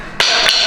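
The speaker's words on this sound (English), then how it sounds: "So you shock it with a hammer and it'll pop right out." A hammer strikes a tapered part, like a tie rod end, to shock it loose during a 13B rotary engine rebuild: a sharp, loud metallic hit followed by a couple of quicker, lighter taps, all close up.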